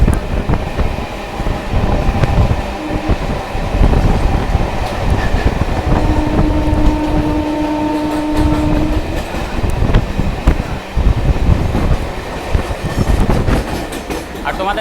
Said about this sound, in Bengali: দেখো আমরা এখন বিধাননগর স্টেশন ডিপার্চার করছি